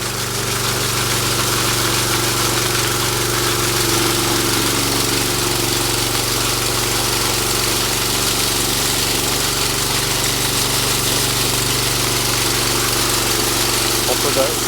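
A high-speed concrete finishing machine runs at low throttle, a steady, loud engine drone with a fast mechanical whir that holds constant throughout, outdoors on a concrete job.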